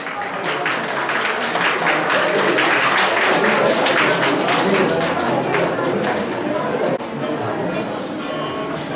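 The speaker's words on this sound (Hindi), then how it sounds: "तालियों में तो बस दम होना चाहिए।" Sustained clapping from a crowd at a best teacher award ceremony in Chamba, full and loud at first, then dropping a notch near the end and carrying on with faint chatter underneath.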